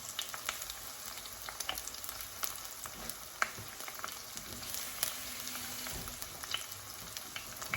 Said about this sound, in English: Now we're going to add our ginger garlic and chili.